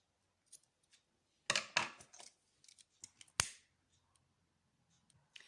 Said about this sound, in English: trim and seal any excess